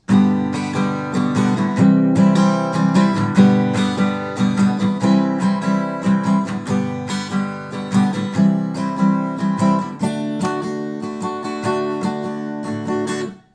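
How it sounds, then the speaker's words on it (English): Acoustic guitar strummed in a steady down-down-up-down-up pattern, bright and close, with chords ringing continuously and a brief change near the end. "8-note down, down, up, down, up strumming pattern"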